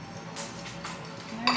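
Tuna is stirred with lemon juice in a bowl, giving soft scraping and a few light utensil clinks against the bowl, with a sharper clink at the end.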